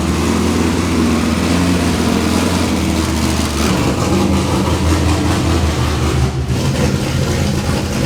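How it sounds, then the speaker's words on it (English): A 2006 Corvette Z06 with a stage 4 build and straight pipe exhaust idles loudly and steadily up close, a deep rumbling drone holding constant throughout with no talk. "with this straight pipe exhaust. It is obnoxiously loud."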